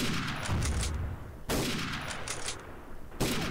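Repeated gunfire in a World War II role-play video game, with two loud, sharp reports spaced about a second and a half apart, each followed by rattling bursts and a decaying tail, and no talking.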